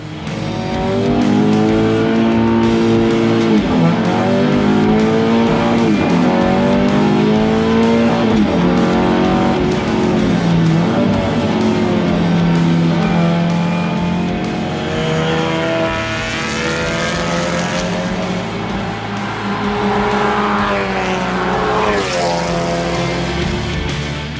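A front-wheel-drive TCR race car is driven hard on a circuit, its loud engine climbing and dropping through gear changes for the whole stretch, with tire squeal through the corners and no talking.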